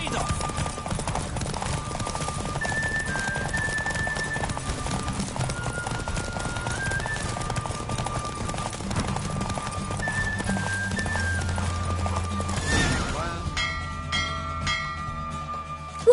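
Steady clip-clop of a horse's hooves at a fast gallop in The Witcher 3 horse race, continuous throughout, with music playing underneath.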